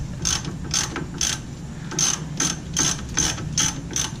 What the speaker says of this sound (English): Trying to get a wrench there